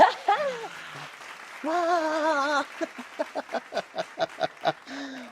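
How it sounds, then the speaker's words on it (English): A single person claps about ten times in a quick, even rhythm, close and fairly clear, after a short stretch of voices and a held tone. "I'm clapping, and everybody else is clapping too."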